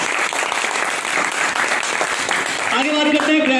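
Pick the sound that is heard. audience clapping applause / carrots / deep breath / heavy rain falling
audience clapping applause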